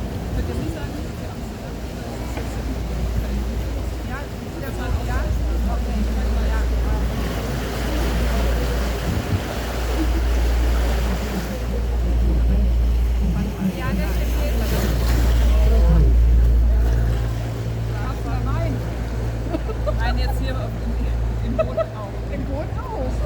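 Tour boat on the canals of Bruges, its motor a low steady rumble with water washing around the hull, while people talk nearby over it.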